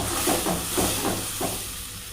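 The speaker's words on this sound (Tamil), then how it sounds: "ஸோ தக்காளி ஆட் பண்ணிட்டு இதையும் அப்படியே அது எல்லாத்தையும் ஒன்றா ஈவனாக மிக்ஸ் பண்ணி விடுவோம்" Ground tomato stirred into frying eggplant masala for ennai katharikkai, with a spoon scraping the pan in several soft strokes over a steady low sizzle, close by and with no talk.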